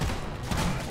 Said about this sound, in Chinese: 我明明朝着他脸开枪啊